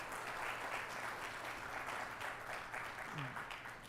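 Audience applause for food pantry volunteers at a fundraiser breakfast, sustained clapping from a room of people, fairly steady before tapering slightly, with a faint voice briefly rising near the end.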